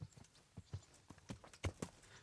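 Horse hooves clip-clop on the ground in Kingdom Come: Deliverance, a medieval role-playing game, with about eight uneven, fairly close thuds over a couple of seconds and no talking.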